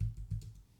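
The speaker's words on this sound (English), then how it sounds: "my typing is very slow and bad" A few slow, uneven keystrokes tap on a computer keyboard, close and quiet, with no talking.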